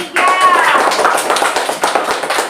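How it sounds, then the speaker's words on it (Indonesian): A classroom of students claps for a presenting group, a burst of fairly loud hand claps that starts abruptly and thins into scattered separate claps, with voices mixed in. "Tepuk tangan dulu buat kelompok 3"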